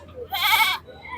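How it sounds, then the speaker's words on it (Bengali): A single sheep bleats at a busy goat and livestock market, one wavering call lasting about half a second, fairly close and clear over a low hum of crowd and market background. "এখানে একটি ভেড়া দেখতে পাচ্ছি"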